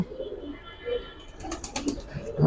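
Giribaz highflyer pigeons cooing close by in soft, repeated low coos, with a few faint rustles and wing sounds around them and no talking.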